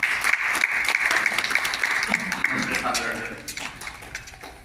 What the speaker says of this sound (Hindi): मैं जोरदार तालियों से उन्हें आमंत्रित करता हूँ।